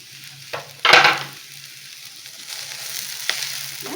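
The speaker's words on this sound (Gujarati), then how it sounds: "ફરી મિક્સ કરી લઈશું." Millet rotla filling is mixed in a pan, with a soft continuous sizzle, one loud scraping stir near the start and a few lighter scrapes later.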